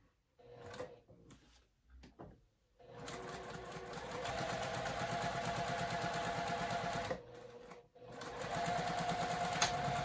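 A home sewing machine stitches fabric for a garment, starting with a few short bursts, then running in a long steady whir, pausing briefly and starting again, close and clear with light handling noises between.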